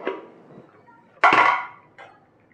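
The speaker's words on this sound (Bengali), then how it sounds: "এবার এটাকে চাপা দিয়ে রাখবো যতক্ষণ না চালটা ফুটছে" A lid is set down on a cooking pot of rice simmering for a Bengali fish-head muro ghonto: one loud, close metallic clatter, a lighter clink a moment later, and quiet kitchen noise around it.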